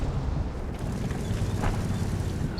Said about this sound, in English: Some more shots coming in.